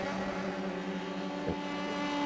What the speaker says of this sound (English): It sounds like his pit limiter's on.